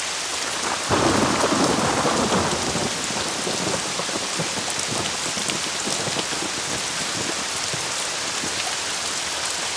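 A heavy downpour hisses densely and continuously, with a deep roll of thunder rumbling through the first few seconds before the rain carries on alone.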